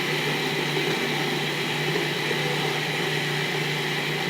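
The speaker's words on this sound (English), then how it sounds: "So you just chop it until it's fine." A food processor whirs in a steady, unbroken motor drone while chopping meatless ingredients until fine, with no voices over it.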